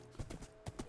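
Horse hooves clip-clop in a video game, a few quick, fairly close hoof beats in an uneven rhythm with no talking.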